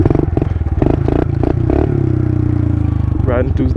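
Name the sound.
pit bike riding through the desert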